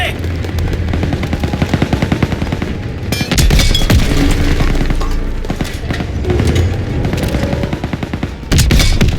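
Dense rapid small-arms and machine-gun fire in the Call of Duty WWII video game, loud and nearly continuous bursts with brief pauses, with a few faint voices mixed in.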